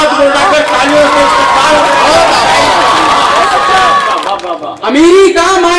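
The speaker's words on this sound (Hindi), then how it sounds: "एक बार दोनों हाथ मिलाकर तालियों से" Applause and cheering from the crowd at a kavi sammelan mushaira in Raipur Ghunsi, loud and sustained, mixed with crowd babble and a reciting voice, then breaking off briefly before the voice resumes.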